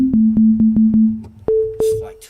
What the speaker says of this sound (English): Now we have the sine wave.